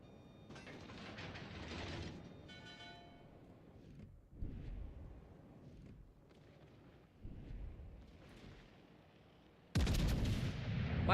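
Shots from a round of Apex Legends crack in irregular bursts, with a sharp metallic volley at the start and a sudden loud blast toward the end, and little talk over the gunfire.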